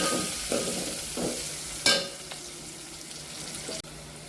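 Curry leaves and chopped tomato hitting hot oil with asafoetida for sambar, giving a steady sizzle with scraping stirs and a sharp clatter partway through.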